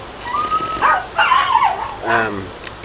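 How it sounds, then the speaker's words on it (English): A dog barks and yips outdoors in a few short bursts, mixed with whine-like tones, while a person talks nearby. "You hear our dog barking in the background"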